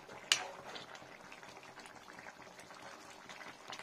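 A pot of cauliflower and potato curry bubbling on the stove, a soft steady simmer with a brief sharp clink near the start, fairly quiet throughout.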